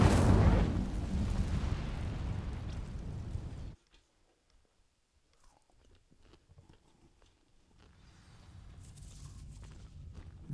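Incendio fire spell from Hogwarts Legacy igniting dry vines: a loud burst of roaring, crackling flame for about four seconds, then sudden near-silence with faint scattered ticks and a low rumble returning.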